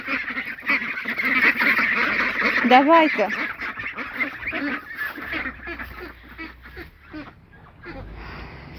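Ducks in a yard at dusk, a loud nearby cluster of honking quacks and chatter that rises in the middle and then thins out, with a person speaking briefly over them.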